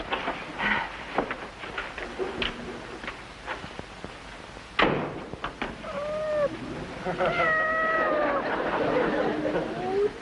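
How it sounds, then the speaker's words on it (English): A cat meows in short rising calls a few times in an indoor room, clear and close, with a person's voice heard around them. "There isn't a cat around here by any chance."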